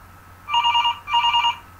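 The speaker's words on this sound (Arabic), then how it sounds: "شيل التليفون، رفع" An indoor telephone rings twice in close succession, each ring a rapid trilling bell burst, loud and clear over a quiet room.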